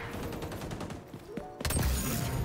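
Rapid automatic gunfire in the shooter game XDefiant, dense bursts of shots that grow louder and fuller near the end of the short stretch.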